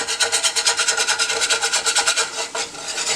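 A utensil rapidly scrapes seasonings across a pan while beef liver cooks in olive oil, a close, loud, rhythmic rasping of quick back-and-forth strokes with a brief pause near the end.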